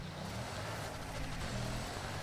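A paddle-shift car driven in Forza Horizon 4 gives a constant, fairly loud engine and road roar. It holds steady with no pauses and carries no talk.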